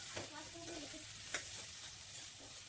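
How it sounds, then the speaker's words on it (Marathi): Jackfruit pieces are sautéed in oil with spices in a pan. A short, quiet burst of frying sizzle mixes with scraping stir strokes, and two brief utensil scrapes stand out. "आता यामध्ये आपल्याला फणसाचे तुकडे घालायचे आहेत"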